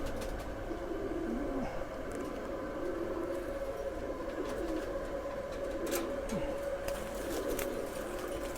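A Missa breed pigeon coos in low, repeated calls over a steady background hum, with faint voices in the distance.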